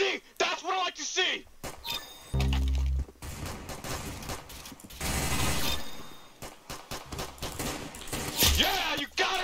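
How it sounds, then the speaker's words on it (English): Gunfire from the Roblox-style shooter game Arsenal, scattered bursts and sharp reports mixed with mechanical clicks and game effects, heard under an excited player's talking. "Oh, I'm hearing gunshots around there, so someone is up there."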